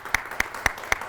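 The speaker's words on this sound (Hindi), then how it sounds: "वाह, तालियां भाई" Four evenly spaced, sharp hand claps ring out in a short, regular rhythm from a small audience, fairly close and clear.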